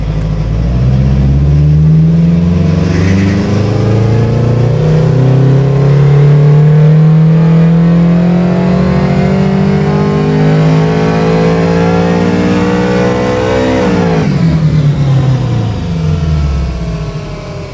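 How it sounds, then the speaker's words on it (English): Car engine with dual variable cam timing on a dyno ramp run, very loud and close, revs climbing steadily for about fourteen seconds before dropping sharply off throttle, with no talking. "let's just perform another ramp run on the dyno"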